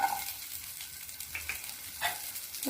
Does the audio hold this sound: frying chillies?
yes